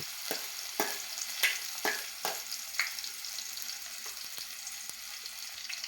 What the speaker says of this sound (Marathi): त्यानंतर कांदो फोडणीक दिलंय